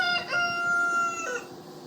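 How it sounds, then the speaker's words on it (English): A single rooster crows loudly nearby, a long harmonic call that rises and then trails off. "thank you, Mr. Rooster"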